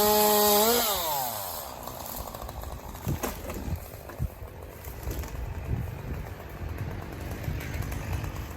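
A chainsaw making undercuts on the lighter side of a tree: a sharp rev that drops off at the start, then quieter engine running with intermittent knocks and clatter.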